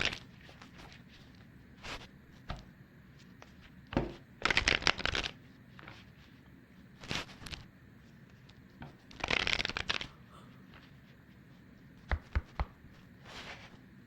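Playing cards being shuffled for a tarot-style card reading, heard as several separate bursts of crisp riffling and flapping spread over a quiet background, close and moderately loud, with a few soft taps in between.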